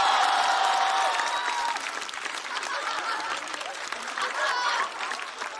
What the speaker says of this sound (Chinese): 掌声再次送给阿水